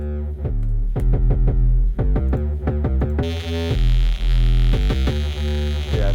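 A clean sub bass line in a drum and bass track plays rhythmic deep notes with a dull, rounded tone. About halfway through, a brighter, gritty distorted layer cuts back in over the same line.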